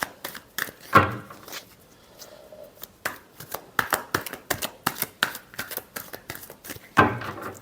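Tarot cards riffled and shuffled by hand, a rapid flurry of crisp papery flicks and slaps in quick irregular bursts, close up, with a few heavier card-snap accents and no speech.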